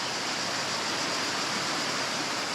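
Kravice waterfalls in Bosnia and Herzegovina pour in a steady, dense roar of falling water, close and continuous with no pauses.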